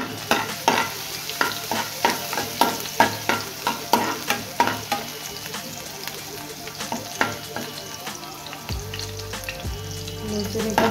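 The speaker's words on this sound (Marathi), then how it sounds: "तेल गरम झालेलं आहे, लसूण घालून घेतो।" Garlic fries in hot coconut oil for a Goan sardine ambot tik, with a steady close sizzle and quick rhythmic spatula scrapes in the pan that slow and then give way to continuous frying.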